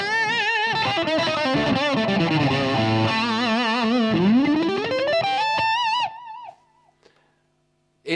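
Electric guitar played through a Boss DS-2 Turbo Distortion pedal, loud sustained distorted notes with wide pitch bends and vibrato that cut off abruptly near the end, leaving a brief faint tail.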